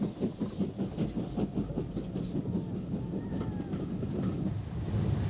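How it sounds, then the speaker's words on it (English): GNR steam locomotive No. 207 Boyne pulls into Portadown station on a Dublin to Belfast train in 1964, its rhythmic chuffing beats strong at first, then merging into a steady rumble with a faint whistle-like tone. "Number 207 enters Portadown on the 6 o'clock Dublin to Belfast train on July the 5th, 1964"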